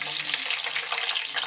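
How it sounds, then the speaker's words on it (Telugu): Green chillies sizzle and crackle steadily in hot oil in a pan for a fish curry, a dense, loud frying hiss with faint stirring, no voices. "పచ్చిమిరపకాయలు వేస్తున్నాను. వేగుతుంది."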